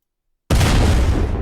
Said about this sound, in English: You can just literally get a random explosion effect.